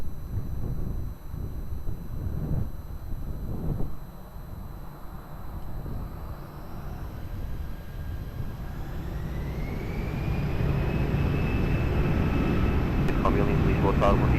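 Airbus A320 on runway 20 at Lisbon Airport: jet engine rumble that swells into a rising whine and louder roar toward the end, with wind buffeting the microphone.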